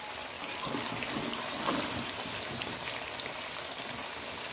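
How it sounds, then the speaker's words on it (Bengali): Rain falls outdoors, a steady close hiss and patter of drops on surfaces with no pauses and no talking. "বৃষ্টি পড়ছে"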